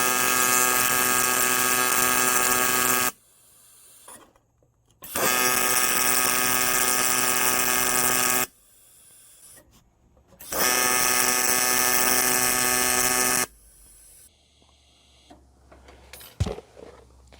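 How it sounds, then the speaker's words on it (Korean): Argon TIG welding on aluminium, with filler rod fed into the weld pool, makes a loud, steady electric buzz in three sustained bursts of several seconds each, separated by quiet pauses with faint clicks. "예쁜 물을 만들고 용접봉을 넣고 이렇게 연습을 몇 번 하시고"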